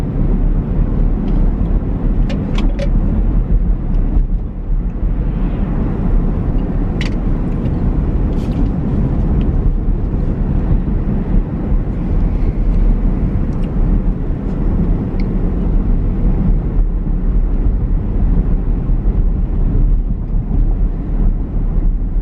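Steady low road rumble inside a moving car with no music playing, continuous engine and tyre drone with faint wind hiss and a few brief light clicks, close and even throughout.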